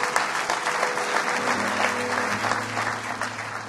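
A church congregation applauds in a continuous, dense wash of clapping at moderate loudness, with a low sustained tone running underneath.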